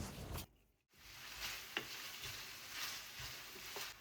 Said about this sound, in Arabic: ضفت شويه نتاع الملح ونقليهم مده 2 دقائق باش البصل والثوم يطلقوا النكهه تاعهم